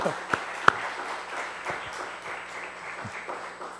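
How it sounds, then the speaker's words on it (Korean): A church congregation at an evening revival meeting claps together, a steady patter of many hands at moderate distance with a few sharper individual claps. "우리 하나님께 한번 영광의 박수를 한번 드릴까요?"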